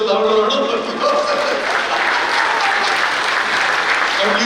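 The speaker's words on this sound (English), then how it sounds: "Ladies and gentlemen, give yourselves a loud round of applause." A seated lecture audience gives itself a loud round of applause, a full, steady roar of clapping from a large crowd that stays strong throughout, with a few voices mixed in.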